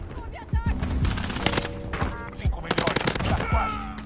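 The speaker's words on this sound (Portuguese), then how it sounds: "Eles estão atirando em mim!" Rapid gunfire in a video game, with bursts of shots and sharp cracks repeating across the whole stretch, loud and close, over game ambience and several short impacts.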